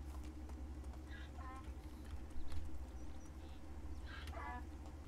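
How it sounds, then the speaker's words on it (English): A donkey brays twice in the medieval village-life game Medieval Dynasty, short honking calls at a moderate distance over a low steady game ambience, with someone talking over it. "I don't know how you guys feel about the donkey braying sound"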